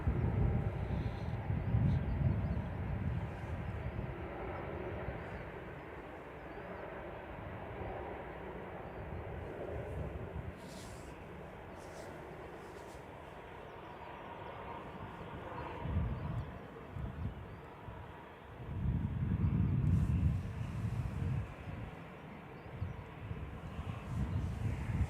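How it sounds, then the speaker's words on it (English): A Lufthansa Airbus A320neo arriving from Munich at Manchester Airport, heard as faint, distant engine rumble that swells twice over a quiet, breezy background. "This is an A320 Neo."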